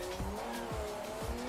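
In the racing video game Project Motor Racing, a pace car skids out of control, its tyres squealing in a sustained wavering screech over the steady engine drone, with short repeated thumps underneath.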